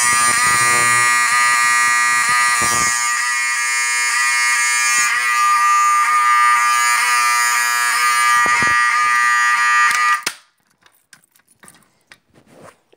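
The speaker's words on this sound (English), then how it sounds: "you're using a horn strobe or just horn" A fire alarm horn strobe sounds during a system test, a loud continuous harsh buzzing tone that runs steadily for about ten seconds, then cuts off abruptly, leaving quiet handling noises.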